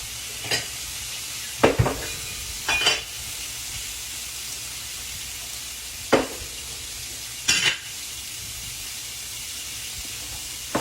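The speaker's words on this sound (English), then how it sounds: "We're going to fry it on that side, and then we're going to make our gravy" Food frying in a skillet before gravy is made, a constant close sizzle broken by a few sharp bursts of louder spitting and scraping, no voices.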